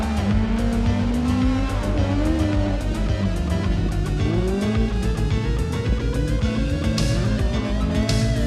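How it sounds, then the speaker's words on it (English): A little 1300cc Nissan Sunny rally car at a 1989 national rallysprint, its engine revving hard and sustained, pitch climbing and dipping through gear changes, loud and close without letup for the whole stretch. "Aucklander Grant Liston has this little Nissan Sunny singing as he chases the bigger engine machines."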